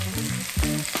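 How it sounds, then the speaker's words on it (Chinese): White radish slices fry in a pan with a close, steady sizzle and a few quick bursts of louder crackle. "现在煎到白萝卜有一点点黄黄了"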